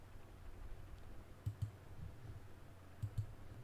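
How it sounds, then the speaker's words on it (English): Faint computer mouse clicks come in two quick pairs, close-up over a low steady hum, with no talking. "Let me click on OK"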